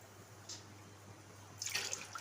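Near silence, then a short splashing burst of water poured into a pot of rice near the end, preceded by a single faint drip.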